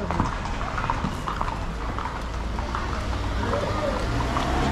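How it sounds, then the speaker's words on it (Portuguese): Horse hooves clip-clopping steadily during a group horseback ride, a continuous rhythmic patter of hoof strikes close by over broad outdoor rumble and wind. "Tá bonito o cavalo?"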